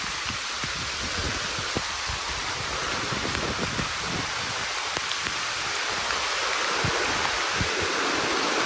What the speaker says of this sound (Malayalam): ജാതി മഴയായി ഗായ്സ്.